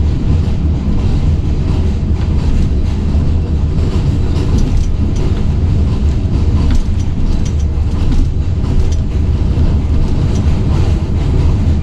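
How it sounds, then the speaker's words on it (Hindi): The Sir Syed Express passenger train crossing the Chenab river bridge in Punjab, heard from on board as a loud, constant low rumble of rolling wheels and rattling carriages with faint clatter throughout. "चनाब रिवर से पास हो रही है अभी हमारी ट्रेन।"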